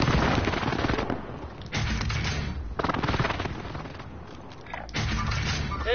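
A Call of Duty match on PS4 crackles with dense machine-gun fire and a booming enemy precision airstrike, loud rapid bursts broken by short pauses.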